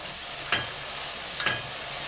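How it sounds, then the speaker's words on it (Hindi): Masala of tomatoes and green chillies fries in ghee, a steady close sizzle broken by two scraping stirs of a spoon through the pan, with no talk. "अभी हम 2 मिनट और इसको अच्छे तरीके से भून लेंगे"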